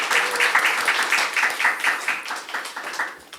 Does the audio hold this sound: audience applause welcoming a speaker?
yes